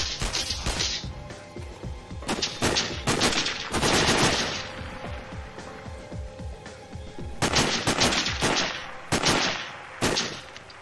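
Gunfire from a rifle in the Sniper: Ghost Warrior video game, with repeated loud sharp shots in bursts across the span, some rapid and clustered, others spaced apart.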